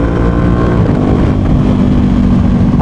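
Loud, close engine drone from a Ducati Panigale V2 sport motorcycle with Motomillion upgrades, riding through a tunnel, a steady throaty roar with a rising rev toward the end and no talking.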